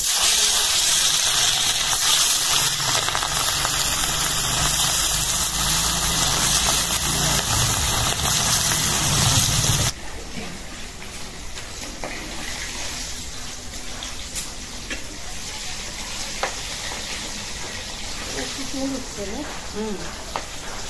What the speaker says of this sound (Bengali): তেলটা গরম হয়ে গেছে, আমি ভাজার জন্য মাছটি দিয়ে দিই।